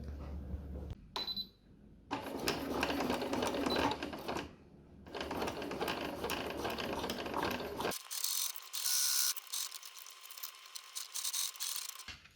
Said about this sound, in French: Et maintenant, on passe un point droit à la machine.